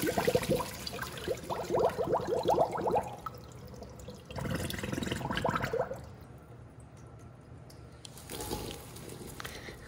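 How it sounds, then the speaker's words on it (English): Water pours from corn in a strainer, loud splashing and trickling up close, then it eases off into lighter drips and a second short rush. "I'm going to strain the water out of corn"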